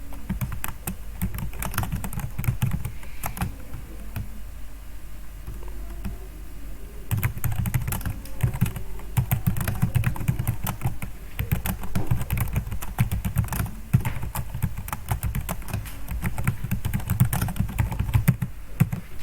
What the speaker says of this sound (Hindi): जो हम टाइप कर रहे हैं, मिसाल के तौर पे हम यहाँ पे लिख रहे हैं